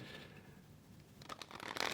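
Tarot cards shuffled by hand, a soft riffling at first that turns into a brisk run of crisp, clattering flicks and slaps toward the end, close and fairly loud with no talking.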